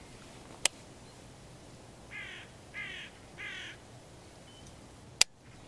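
A hooded crow caws three times in a steady rhythm at moderate distance in a quiet field with decoys, between two sharp clicks of a misfiring rifle.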